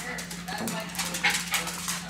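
A dog whimpering with short yips and a bark, close and moderately loud, with people talking over it.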